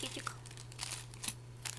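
A small jewelry packet crinkles in a few quick, light rustles at close range, faint over a low electrical hum.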